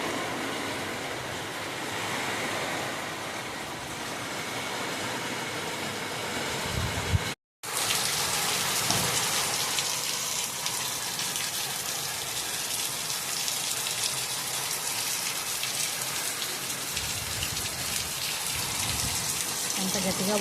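Heavy rain pours steadily onto plants and young coconut palms outside a home, a dense continuous hiss of drops with wind, briefly cut by a short gap before resuming just as loud.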